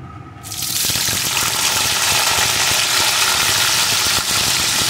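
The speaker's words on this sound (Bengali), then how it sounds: "এখন এর ভিতরে আমি দিয়ে দেব আলুর টুকরোগুলোকে।" Potato pieces tossed into hot oil with tempered spices for an egg and potato curry start frying with a sudden loud sizzle that holds steady and close for several seconds, with no talking.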